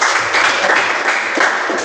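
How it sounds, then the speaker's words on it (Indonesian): A classroom group claps together after a teacher's lesson, a brief burst of close, steady applause with audible individual hand strikes, stopping abruptly at the end. "Terima kasih, tepuk."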